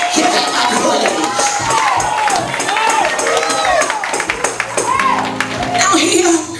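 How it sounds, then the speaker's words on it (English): Church congregation clapping hands in praise at a Christian conference in Charlotte, North Carolina, a loud continuous crowd of claps and cheers mixed with a preacher's voice and music throughout. "clap your hands and give him a praise"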